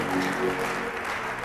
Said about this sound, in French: on peut honorer les Saintes Écritures par les acclamations